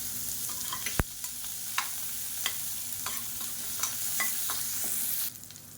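Chopped onions and spices sizzle in a hot pan while a utensil scrapes and clinks against it now and then; no voices.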